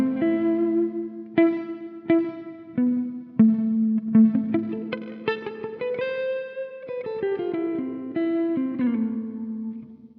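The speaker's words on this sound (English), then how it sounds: "We're going to switch over to the spring reverb" Electric guitar played through a Coffee Shop Pedals Cortado reverb pedal set to its spring mode with controls at noon: picked notes and chords ringing out with a splashy, drippy spring tail, loud and alone with no talking.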